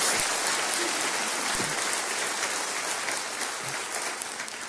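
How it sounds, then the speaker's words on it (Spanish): Church congregation giving loud, sustained applause to the Lord during a Spanish-language service, a dense, even roar of clapping that stays steady and tapers slightly near the end. "Dale un fuerte aplauso al Señor"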